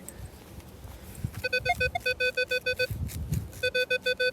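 Repeated short electronic beeps from a metal detector, a steady run of pulsed tones with a brief pause, the signal turning cleaner, over faint outdoor rustling.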